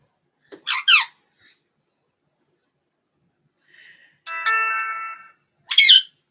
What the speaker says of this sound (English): Oh, I have a text message.